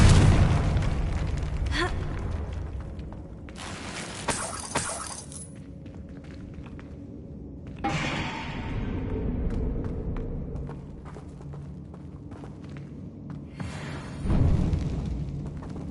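Confringo blasting spells go off in Hogwarts Legacy, sharp shattering bursts and booming impacts repeated several times, each trailing into a low rumble, with no talking.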